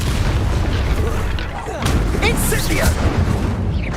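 Incendio fire spell cast in the wizarding game Hogwarts Legacy: a dense, loud roaring blast with booming combat noise throughout and a sharper burst midway, with voices mixed in.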